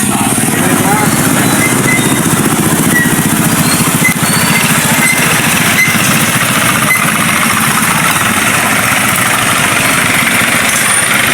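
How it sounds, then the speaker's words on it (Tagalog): Cars and motorcycles rumble along a road, engines idling and revving in a dense, loud, continuous mix of nearby motors with a vibrating, knocking edge, while a voice talks faintly underneath. "Tingnan yung mga sasakyan, parang nag-motor kit sila."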